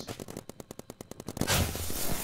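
Rapid burst of explosive gunfire-like pops in a paintball video game match, a steady string of sharp cracks followed by a dense roaring blast as a turret blows up.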